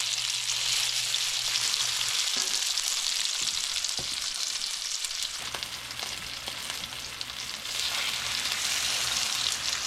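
A venison roast sears in a hot pan, giving a loud, continuous crackling sizzle with a few soft knocks as the meat is shifted, close and without talk.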